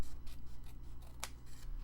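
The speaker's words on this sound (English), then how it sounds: "I can't get all the way in there with my tiny scissors." Tiny scissors snip paper for an envelope-pocket journal craft, with one crisp cut standing out among soft rustling and close, quiet handling noise.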